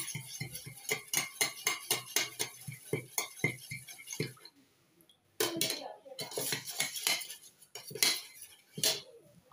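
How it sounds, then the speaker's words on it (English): A spoon stirs homemade hair pomade fast, clinking against its container in a quick rhythmic run of bright taps, pausing briefly, then resuming in uneven bursts. "So I will stir very quickly."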